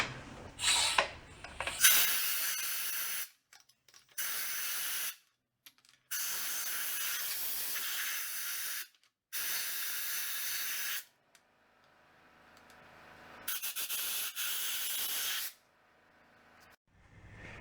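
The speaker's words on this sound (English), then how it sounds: "I had to rinse that out pretty good with some brake clean." Brake cleaner hisses from an aerosol can in several long, loud bursts with short gaps, close up, as it is sprayed into the cylinder and crankcase of a junked Suzuki ATV engine.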